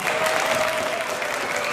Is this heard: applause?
yes